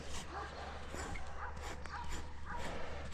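A well-mannered dog gives faint yips and soft whimpering whines in short bursts, heard at a distance over low background noise.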